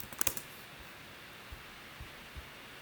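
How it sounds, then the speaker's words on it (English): Quick burst of keystrokes on a computer keyboard near the start, followed by a few sparse, soft taps over a low background hum. "I'll just type it."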